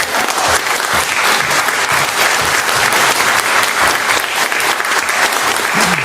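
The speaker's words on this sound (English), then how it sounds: "we really need to applaud her for that" Loud, dense audience applause fills a public discussion on refugees, steady and unbroken from start to finish with a faint murmur of the crowd underneath.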